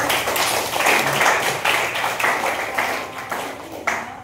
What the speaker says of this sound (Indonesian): kita kasih aplaus ya untuk Sabrina